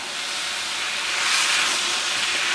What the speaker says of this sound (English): I'm going to pour it right into the middle of that. And once that liquid hits them in the heat